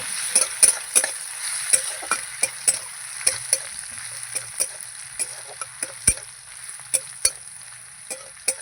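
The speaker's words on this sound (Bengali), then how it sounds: "রসুন পেঁয়াজটা আমি ভালো করে ভাজবো" Crushed garlic and onion fry in a pan with a steady sizzle while a spatula scrapes and stirs in sharp, irregular clicks, close and clear with no talk.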